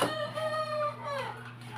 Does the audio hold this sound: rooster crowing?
yes